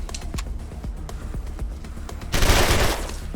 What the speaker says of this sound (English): Some machine guns have rapid fire